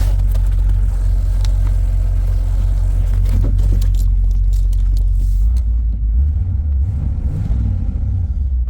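An IROC-Z Camaro engine, just started for the first time in a while, rumbles loudly and steadily close by, its revs rising briefly midway before settling back to a rough idle.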